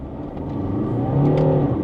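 A BMW 220d Gran Coupe's engine revs up hard, its pitch climbing steadily as it accelerates, loud and close.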